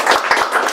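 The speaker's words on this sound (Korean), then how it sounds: "박수!" A church audience claps during a cell leader training session in a short burst of several quick, close hand claps.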